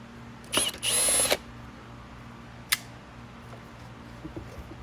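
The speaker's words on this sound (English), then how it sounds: "Simply removing the screw completely." A power drill spins briefly to back out a screw from a Hoover Platinum UH30010 upright vacuum during a cord repair, two close bursts of whirring, the second longer, followed later by a single sharp click in a quiet room.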